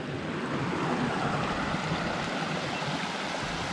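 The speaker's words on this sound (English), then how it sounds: "here's the water we were hearing" A mountain stream near Coldwater Lake on a Mount Saint Helens trail flows in a steady, fairly close rush of water, with no talking and no clear pauses.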